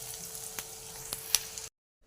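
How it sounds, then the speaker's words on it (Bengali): Bitter gourd leaves frying in hot oil give a steady close sizzle with a few sharper crackles and spatters, stopping abruptly into silence near the end. "সব উচ্ছানিগুলো আমি ভেজে নেব এমনি করে।"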